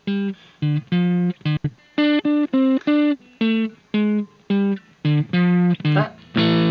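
Electric guitar through a Pro Crunch amp model on a Boss BR-800 plays short, punchy notes and chords with a crunchy, slightly overdriven tone, each phrase separated by brief pauses.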